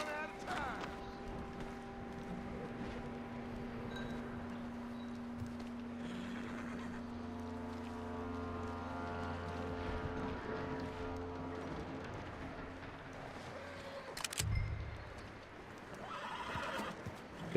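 A horse in a video game neighs and whinnies with clip-clopping hooves, and a louder whinny stands out late in the clip. Background game ambience plays under it, and spoken dialogue is heard.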